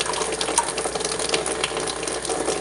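Hot water runs from the outlet of an EcoSmart 5.5 kW tankless electric inline point-of-use water heater, a steady close splashing flow like a faucet filling a sink, continuous with no talk.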